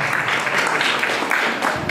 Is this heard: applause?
yes